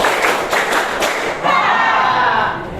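Students in a classroom clap the third rhythmic clapping pattern in unison: a quick run of four evenly spaced claps, then a longer, looser burst of clapping that trails off.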